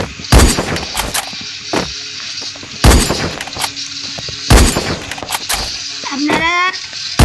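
Gunshots from a mobile shooting game: loud, sharp single reports spaced about a second apart, some with metallic ringing, and a short rising electronic chirp near the end.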